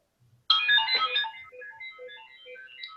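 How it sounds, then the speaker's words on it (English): A mobile phone ringtone starts suddenly, playing a bright, bubbly melodic pattern of quick tones, clear and close, with no talking. "Ooh, Mike's ringtone. There it is"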